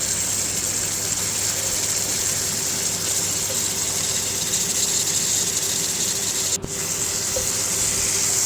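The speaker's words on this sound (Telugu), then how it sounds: "ఇందులో మనం ఇప్పుడు కడిగి పెట్టుకున్న చికెన్ ముక్కలు వేసేసుకోవాలి" Washed chicken pieces tipped into a hot frying pan for methi chicken fry, giving a steady, close, even sizzle and hiss that runs unbroken with no talking.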